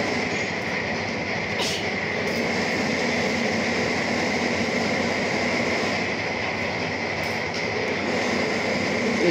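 Wire-bending machine shaping wire for wire netting runs with a steady, dense mechanical drone and rattle, continuous and fairly loud throughout with no pauses.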